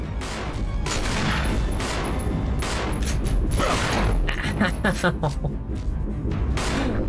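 Rapid bursts of gunfire in the video game Resident Evil, loud booming shots clustered in volleys with mechanical clatter, while people talk over the action.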